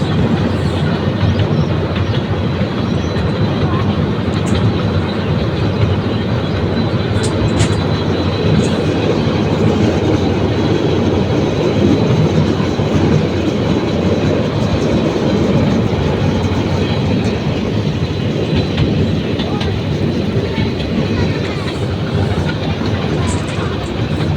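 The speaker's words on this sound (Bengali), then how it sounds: "টয় ট্রেনের ভিতরে বসে পার্ক দেখতে পাচ্ছি" A toy train in a park rumbles steadily on its rails, a dense continuous rolling noise with faint clatter throughout, close and loud from start to finish.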